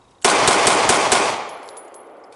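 A Sig P320X pistol is fired in a fast string of loud, close shots, about five in quick succession, followed by a fading outdoor echo.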